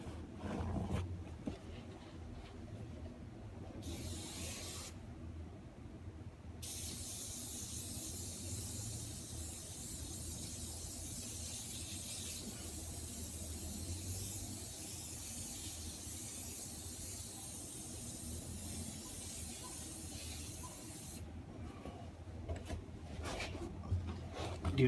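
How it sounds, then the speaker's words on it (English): Steady, continuous hiss of aerosol spray glue running almost the whole time over VW Beetle kick panels, with brief pauses between bursts, close and fairly loud. "spray all the panels nice and well."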